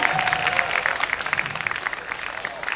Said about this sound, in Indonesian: tepuk tangan semuanya biar semangat